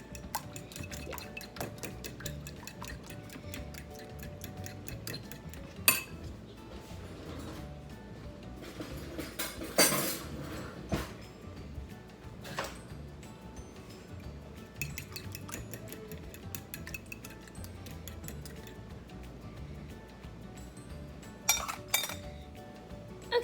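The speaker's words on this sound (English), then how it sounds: "I'm just gonna take my eggs and I'm just gonna beat this up till you don't really see any more white" A fork or whisk clinks rapidly and steadily against a bowl while eggs are beaten, a continuous busy tapping at close range with a few louder knocks.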